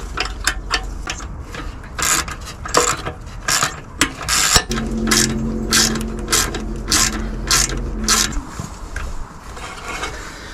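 A small ignition wrench works loose the bolts on the stock bumper of a JL Jeep Wrangler, giving bursts of close, sharp ratcheting clicks in an irregular rhythm, with a steady low mechanical hum running underneath through the middle stretch.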